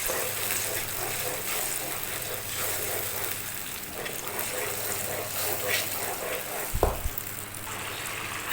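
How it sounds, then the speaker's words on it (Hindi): Ginger garlic paste sizzles softly in a pan while being fried for moong dal mangodi, a steady low crackle with a brief clatter near the end, under someone speaking. "अब हम इसमें ये जिंजर गार्लिक पेस्ट भी ऐड कर देंगे। थोड़ा सा हम इसको भूनेंगे।"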